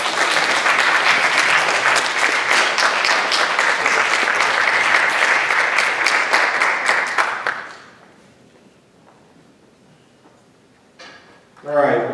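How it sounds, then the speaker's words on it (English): A school awards day audience applauds seniors for about eight seconds, a dense steady clapping that then stops abruptly, followed by near silence and a brief burst of noise at the end. "Let's give all of those students a round of applause."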